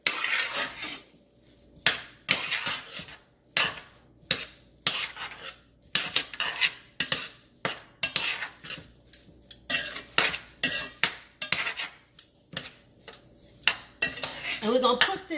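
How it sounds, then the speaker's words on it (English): Spoon scraping and clinking against a pot as seasoned vegetables and butter are stirred into white rice, a steady run of close, repeated clanks and scrapes with short pauses between strokes. "Into the white rice, and we're going to stir that through."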